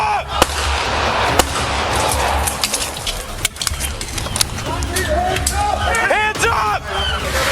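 Sheriff's deputies fire their service weapons at the driver of a car, and several sharp, loud shots crack at irregular intervals over constant street noise. Voices shout between the shots.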